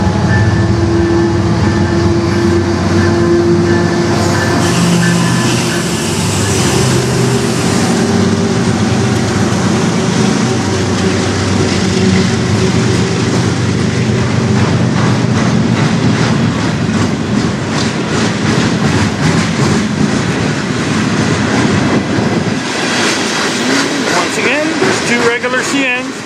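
A CN freight train passes on the Strathroy Subdivision, a loud sustained rumble with rhythmic wheel clatter and rail noise continuing for a long stretch, with a voice talking over it at times.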